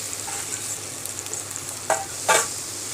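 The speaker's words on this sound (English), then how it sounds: "slowly mix. Slowly mix it. We have to fry it till it mixes well" Mango scrapings with chili powder and garlic being stirred and fried in a pan for mango thokku, a steady soft hiss of frying with a couple of louder scraping stirs near the end.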